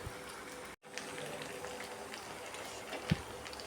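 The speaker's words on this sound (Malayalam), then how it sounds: "ഇനി നമുക്ക് ആ എണ്ണയിലോട്ടൊന്ന് ഇട്ട് വറുത്ത് കോരി എടുക്കാം." Marinated chicken pieces for chicken kondattam deep fry in hot oil, giving a steady, close crackling sizzle that drops out for a moment and then carries on evenly.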